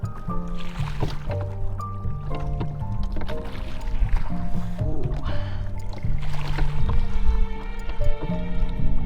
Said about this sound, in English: Who needs to go to the gym when you can just row a boat around Lake Bled?